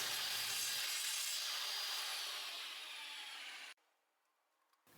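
A handsaw rasps steadily through wooden trim along a marked line, a loud continuous cutting sound that stops abruptly near the end, leaving near silence before a brief final scrape.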